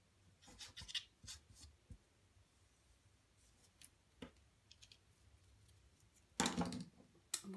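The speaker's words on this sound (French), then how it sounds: "Ensuite je prends ma base jaune et je vais coller le craft par-dessus" Craft paper is pressed and rubbed down with glue onto a yellow card base, making faint scratchy rubbing strokes close by, with a louder burst of rustling near the end and no speech.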